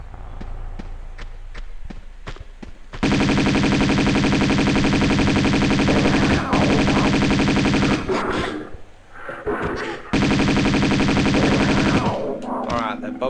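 Uzi bursts in a video game, rapid dense automatic fire sustained for long stretches, loud and close, breaking off briefly and resuming, with a voice talking over it.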